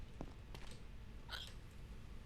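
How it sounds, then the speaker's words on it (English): A video game character hiccups once, a short sharp catch followed by a brief squeaky burst, set against faint low background noise. "hiccups, and sneeze"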